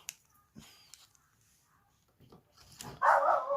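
A pet dog barking indoors, a couple of faint distant yaps followed by a louder, closer burst of barking at the end, otherwise quiet.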